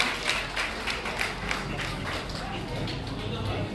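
Parents and students at a coaching academy's parents' meet applaud the toppers with a soft, continuous wash of clapping that sounds somewhat distant and muffled throughout.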